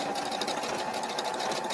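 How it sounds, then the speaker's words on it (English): A sewing machine runs steadily at speed, stitching a straight line through fabric. It is close and continuous, with a rapid, even mechanical whir and no talk over it. "I want to do a couple stitches through the pond"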